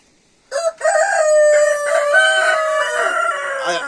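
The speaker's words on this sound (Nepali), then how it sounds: "तिनटा प्योर लोकल भाले, लोकल भाले अब चाहिँ खाना साना खाएर रेडी हुनुहुन्छ नि." Local village roosters crowing at close range, one long, loud cock-a-doodle-doo call with a brief cluck before it, no talking.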